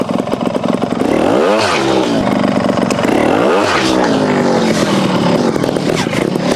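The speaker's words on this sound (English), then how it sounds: "You can hear that snappy engine." A 2023 Sherco STR 300 trials motorcycle engine revs up sharply twice, snappy bursts rising and falling over a steady idle, close and loud.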